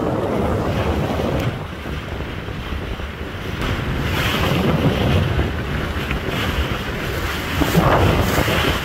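The Parabat-18 passenger launch travels on a river at night on the Barisal to Dhaka route, giving a steady low rumble of engine and rushing water mixed with strong wind buffeting the microphone, with no voices.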